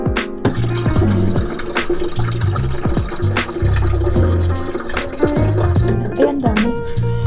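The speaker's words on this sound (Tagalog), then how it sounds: "Kukuha ako ng tubig dito sa fridge." Filtered water pours from a refrigerator dispenser into a container, a steady loud stream with a few clinks and taps along the way and no talk over it.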